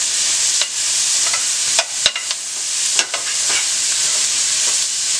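Chopped onion and garlic sizzle in a hot pot while being stirred, with a constant bright frying hiss and a few scraping spoon strokes, close and loud with no voices.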